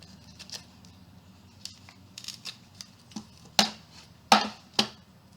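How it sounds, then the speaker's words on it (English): Scissors trimming part off a homemade stamp tool, heard as a few sharp close snips that grow louder toward the end over a low background hum. "Now, this part right here, I'm going to be trimming it off."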